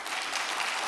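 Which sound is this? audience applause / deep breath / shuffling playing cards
audience applause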